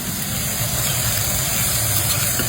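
Eggplant slices fry in hot mustard oil in a home kitchen, giving a steady, close, loud sizzle and hiss that runs unbroken throughout, with no voices.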